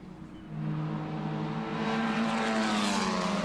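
Formula 4 race cars stream down the main straight at an Australian Formula 4 Championship race, a steady, loud droning engine roar with rising tonal whine as the field passes.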